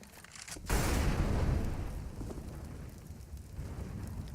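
A grenade goes off in Counter-Strike: Global Offensive on the Train map: a sudden loud blast with a rumbling tail that fades over a few seconds.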